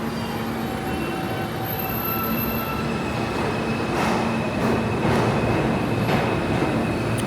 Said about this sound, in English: That train is out there ready to go.